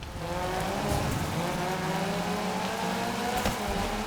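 Rain in a gravel racing video game, a steady loud hiss of rain on the surface, with an engine's rising and falling drone underneath as the car slides and spins its wheels, no voices.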